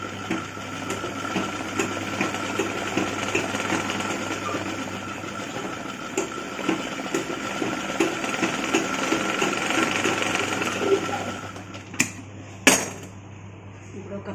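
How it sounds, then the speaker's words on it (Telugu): A sewing machine stitching chudidar pant pieces for a Punjabi dress, a steady whirring mechanical hum running close for most of the time before stopping, followed by a couple of sharp clicks. "ఇలా సన్నగా మలిచి కుట్టుకోవాలి ఇటువైపు కూడా మంచి కుట్టుకోవాలి"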